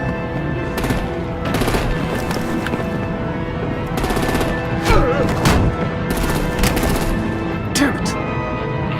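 Loud, repeated bursts of automatic gunfire in the Batman: The Enemy Within video game, sharp shots clustered in rapid volleys across the scene amid other action noise.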